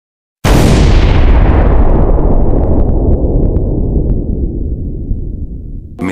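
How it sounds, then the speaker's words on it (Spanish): A single huge explosion bursts in suddenly and then rolls on as a long, loud, decaying boom that fills the rest of the clip with no voices. "pero se escucha una explosión"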